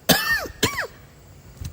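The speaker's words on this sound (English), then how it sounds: "Had to cough real quick because that was a lot of speaking that I did." Two sharp coughs in quick succession, close and fairly loud, from a man during an indoor media-team walkthrough, each ending in a rough throaty tail, followed by quiet and a faint click.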